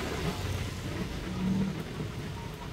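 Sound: heavy rain

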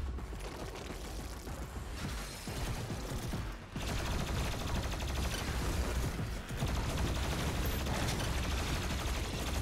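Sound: weapon gunfire in the video game Doom Eternal

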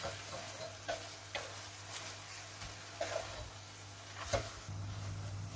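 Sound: stir-frying onion and sliced red chili in a pan

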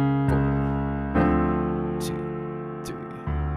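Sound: piano playing the opening measures of a song

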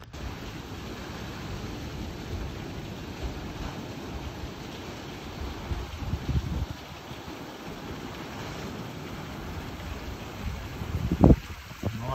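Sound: river rushing from heavy rain, Portugal

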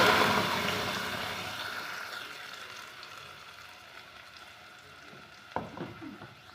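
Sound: masala boiling in pan

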